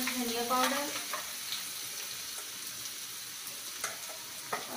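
Potatoes and cauliflower with turmeric and spices fry and get stirred in a pan, a steady close sizzle with scraping strokes, a brief whistle-like tone near the start.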